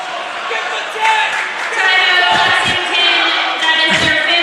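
A home crowd at a Lexington High versus Belmont varsity basketball game yells steadily and loudly for a technical foul on the visiting coach, a sustained roar of many voices filling the gym.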